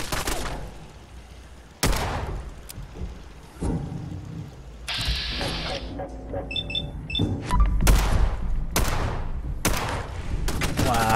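Gunfire in the video game Fallout 4 around Fort Hagen with automated turrets: repeated broadband shots and bursts in irregular clusters over game ambience and mechanical clanks, loud and close throughout.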